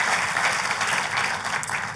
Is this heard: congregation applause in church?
yes